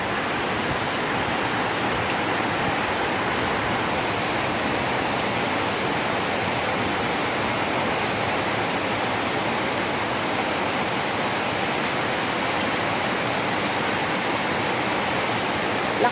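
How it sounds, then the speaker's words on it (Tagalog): Heavy sudden tropical downpour after intense heat, a dense, loud, unbroken roar of pouring rain and rushing water that stays constant throughout. "Lakas ng tubig, oh."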